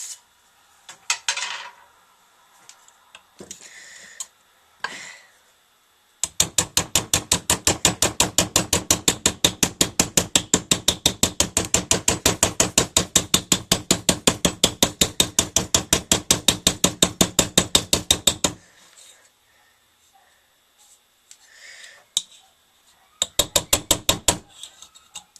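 A metal money clip struck with a rawhide hammer: a few scattered knocks, then a long, fast, evenly spaced run of sharp metallic taps close by, a pause, and another short burst of rapid taps.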